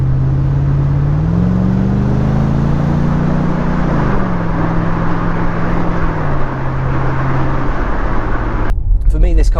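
Mercedes C43 AMG V8 engine burbles steadily at idle, a deep muscular rumble with a slight rise and fall in pitch, close and loud, ending in a brief clatter.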